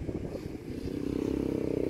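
A motorcycle passes outdoors, its low engine drone building and steadying over a couple of seconds, fairly close and moderately loud, with no talk over it.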